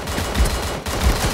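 Gunfire from a team video game match, a short loud burst of shots with heavy low booms repeating about twice within a second, set against steady game noise.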